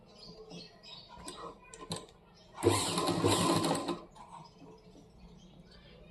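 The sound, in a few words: sewing machine stitching blouse piping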